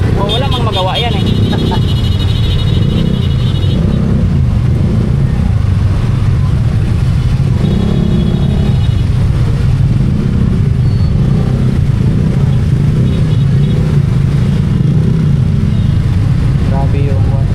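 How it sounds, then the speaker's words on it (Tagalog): Heavy street traffic in Tondo, Manila, with cars and motorcycles crawling past, engines droning and revving steadily close by, with people talking over it throughout. "Grabe yung traffic mga kadudoy."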